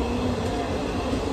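A Hubballi to Dadar Express passenger train running, with a steady, loud rumble and rattle of the moving carriages continuing throughout, no voices.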